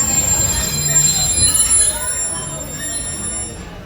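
Walt Disney World Railroad train rolling along, a steady rumble with high wheel squeal ringing over the top, loud and close, easing slightly toward the end.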